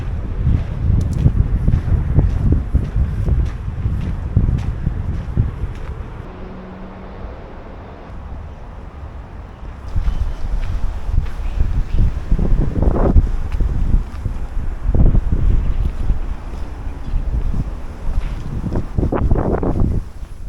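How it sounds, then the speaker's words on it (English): Steady wind buffeting the microphone outdoors in Toledo, Spain, a loud low rumble with gusts that swell and fade, no voices. "Windy here."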